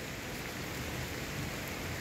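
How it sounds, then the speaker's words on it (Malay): Heavy rain pours down steadily outside a hotel's second-floor garden level at Somerset Medini, Nusajaya, Johor, a dense, constant hiss with no pauses and no voices. "Oh, hujan lebat."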